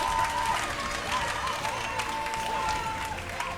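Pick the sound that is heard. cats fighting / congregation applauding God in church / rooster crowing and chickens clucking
congregation applauding God in church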